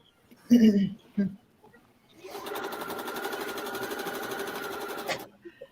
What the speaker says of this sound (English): I'm sewing in this room. We're both trying to get our rows done.